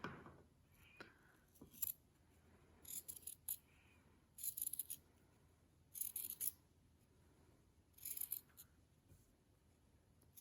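Scissors cut through a shirt to make a face mask, giving several short crisp snipping bursts spaced a second or two apart over a quiet room background.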